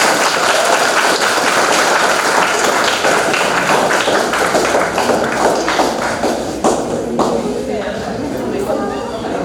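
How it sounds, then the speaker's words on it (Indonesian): An audience at a school work visit by a regional council chairman applauds with loud, dense clapping that slowly thins and fades. Chatter and voices can be heard underneath. "Tepuk tangan untuk Bapak Ketua."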